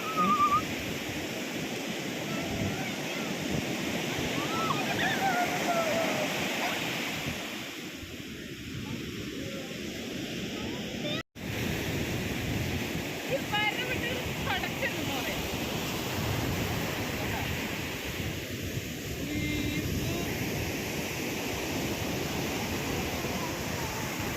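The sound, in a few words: sea waves washing in at a beach in Thrissur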